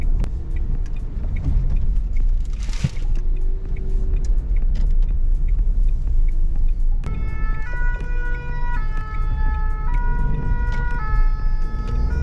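A fire engine on a city street sounds its two-tone siren, which enters partway through and alternates steadily over rumbling traffic and engine noise.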